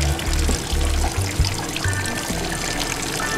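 Water pouring steadily in a rainy outdoor setting during a water treatment cleanup, a continuous close splashing stream with brief breaks, heard alone without voices.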